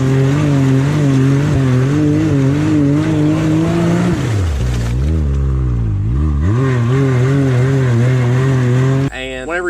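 An off-road vehicle's engine revs hard and steadily while winching uphill, the pitch wavering and surging as the throttle is worked, loud and close, with a brief drop in revs midway before it climbs again.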